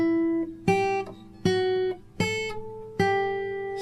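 A guitar plays a higher melodic line moving around the major scale and ending on the root G, five clear plucked notes that ring out one after another over low bass notes, close and alone with no talking.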